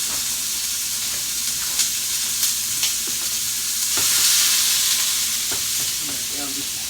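Ground beef, mushrooms and onions frying in a pan for a sloppy joe casserole: a continuous loud sizzle broken by scattered scraping and clinking as a utensil stirs the mixture.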